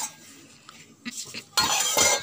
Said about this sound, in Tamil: லிட் போட்டு மூடி வச்சுருங்க.